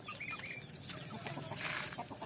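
A flock of native country chickens and chicks cluck steadily and close by, with high chick peeps over the hens' low clucking and no voices.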